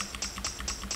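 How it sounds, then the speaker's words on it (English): Jingle percussion sample for an old phonk beat, high-cut and wobbled to sound aged: four evenly spaced bright metallic shakes repeat in a steady rhythm, close and fairly quiet, with no voice. "A jingle."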